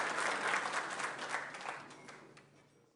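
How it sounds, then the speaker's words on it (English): Applause from an audience at a business appreciation luncheon, a steady round of clapping that gradually fades out over a few seconds. "Let's give our 5-year recipients another round of applause."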